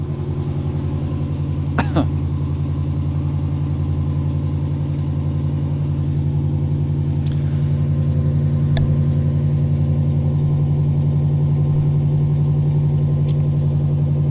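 A Ram 1500 pickup engine runs at a steady idle after a Diablo 93 performance tune install with MDS turned off, a constant low hum with faint clicks over it.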